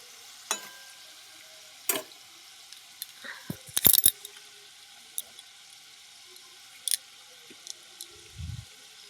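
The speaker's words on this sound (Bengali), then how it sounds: "আর এটা লাস্টে ভাজছি" Quiet steady sizzle of mug puli pitha frying in oil, with occasional clinks and scraping of a utensil against the pan.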